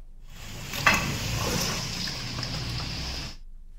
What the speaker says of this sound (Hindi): नालों की सही से सफाई ना होने पर गंदा पानी घरों में घुस रहा है